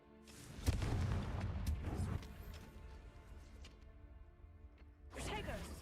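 A Confringo blast spell cast in the Hogwarts Legacy video game, with a loud booming burst near the start, a rumbling tail, and a second explosive hit near the end, under game ambience.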